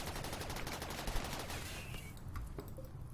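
Rapid gunfire from defensive turrets rattles in dense bursts at an attacking Scyther in RimWorld, then thins out to a few scattered shots.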